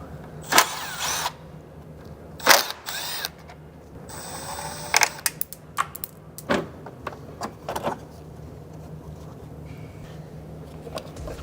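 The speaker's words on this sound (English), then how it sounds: "So now we're going to pull the 3 T30 screws out that hold the intercooler in" Three T30 screws holding a car's intercooler being taken out, heard as separate clanks, clicks and rattles of tools and parts at irregular intervals, close by in a quiet garage with no talking.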